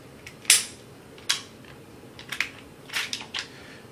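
A Gen4 Glock 34 magazine being dropped out, heard as a few quiet clicks and light metallic clacks scattered over a few seconds, close and soft with no talking.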